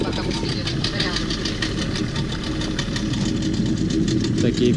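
A speedboat engine at Cayo Santa Maria, Cuba, runs with a continuous, rough mid-pitched drone and vibration, close and steady throughout, with people talking over it.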